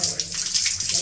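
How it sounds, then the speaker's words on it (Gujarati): Water runs slowly from an inexpensive new household tap in a steady, close hiss that lasts throughout. "પાણી ધીમું આવે છે હાઈફાઈ નળમાં, પાણી ધીમું આવે."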